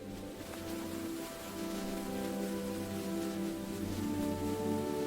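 Heavy rain falling in a forest, a steady soft patter and hiss that builds slightly over a few seconds, continuous with no voices.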